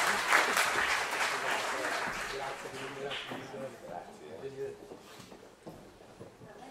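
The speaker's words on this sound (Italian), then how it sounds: "un applauso" Audience applause at the institutional opening session of the Blue Design Summit, a dense burst of clapping that starts loud and thins out over several seconds as a voice begins speaking over it.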